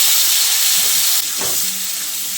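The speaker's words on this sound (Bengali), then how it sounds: "পটলটা ভাজা হয়ে গেলে এর মধ্যে আলুগুলো দিয়ে দিচ্ছি।" Potatoes dropped into hot oil just used for frying pointed gourd sizzle with a loud, continuous hiss, close up and without talk.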